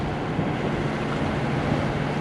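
A sailboat motoring under engine power on a glassy, calm sea off the Provence coast toward Porquerolles, with a steady low engine drone and continuous hiss of water and wind, no talking.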